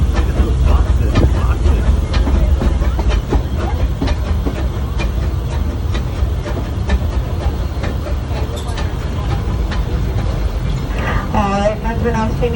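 The Disneyland steam train rolls along toward Mickey's Toontown Depot, with a loud continuous rumble and rhythmic clicking of wheels on track while passengers talk throughout.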